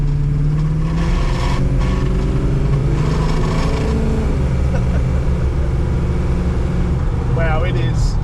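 A classic car's engine revs and pulls hard under acceleration, a steady loud drone with rising tones, while someone talks over it throughout.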